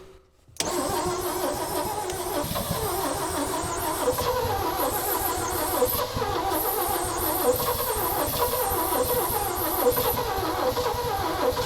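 A 1965 Chevy rollback's engine cranks on the starter and tries to catch, a loud, steady, labored churning that runs on unbroken at close range after a brief quiet start.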